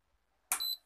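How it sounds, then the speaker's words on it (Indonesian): A standing water-jug dispenser gives a short electronic beep, fairly high-pitched and clear, sounding twice in quick succession after a quiet moment, with no talking. "Nah itu bunyi bip."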